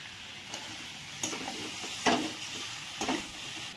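Potatoes fry with spices in a pan for an egg and soybean biryani, a soft steady sizzle broken by four or five spatula scrapes and knocks about a second apart, close by with no voices.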